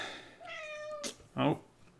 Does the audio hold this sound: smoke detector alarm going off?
no